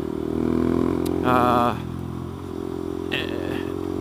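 A Honda Grom motorcycle engine drones steadily while riding, rising briefly in pitch as it revs around a shift, with someone talking over it throughout.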